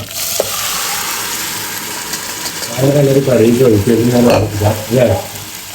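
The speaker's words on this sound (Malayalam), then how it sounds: "അപ്പൊ ഉള്ളി നല്ലൊരു ഗോൾഡൻ കളറായിട്ടുണ്ട് കറിവേപ്പില ഇട്ട് കൊടുക്കാം" Curry leaves drop into oil with golden fried onions, producing a close, steady sizzle; partway through, short tonal, voice-like bursts rise over the frying in a broken rhythm.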